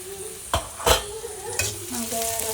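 Mustard seed tempering for rasam sizzles and crackles in hot oil, with two sharp bursts early on over a steady frying hiss and light clinks of a utensil in the pan.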